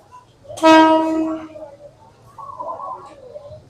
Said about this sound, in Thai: รถไฟมาแล้ว ใกล้เจ็ดโมงแล้วเนี่ยรถไฟมาแล้ว